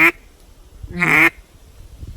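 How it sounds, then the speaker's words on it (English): Two basic quacks blown on a handheld duck call, each note cut off sharply with the tongue: a short blast, a pause, then a longer, louder quack close by, alone with no talking. "Another thing with the basic quack."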